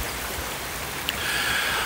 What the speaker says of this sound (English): You're probably hearing the ramblings of the water even as I speak